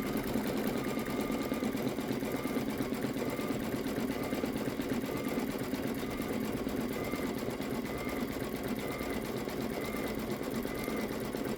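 An embroidery machine stitches an outline around a suitcase motif on a plaid luggage tag, giving a steady, fast mechanical hum and needle chatter, close and continuous throughout.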